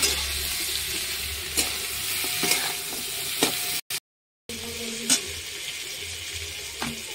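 Vegetables with salt and turmeric stirred in a pan, a soft continuous sizzle broken by scrapes and knocks of the spoon, with a brief silent gap midway.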